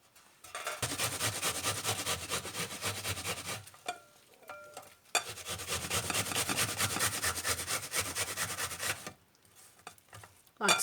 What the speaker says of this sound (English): go ahead and just grate your onion.